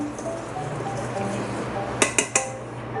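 All-purpose flour and baking soda are mixed in a bowl, with a few sharp clinks of a utensil against the bowl standing out over a quiet background.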